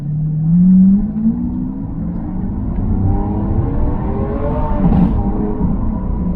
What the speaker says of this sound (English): Typical Lamborghini gear shifts as well, really aggressive.